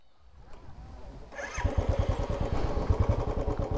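A motorcycle engine starts and runs at a steady, throbbing idle as the bike prepares to cross water on a rough rural road near Duarsini, Purulia, loud and close.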